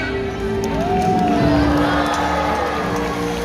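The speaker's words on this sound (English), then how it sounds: "let's give him a great big cheer" A stadium crowd at a SeaWorld Orlando orca show cheers and whoops loudly and steadily for the whole stretch, with children's shouts mixed into the broad roar.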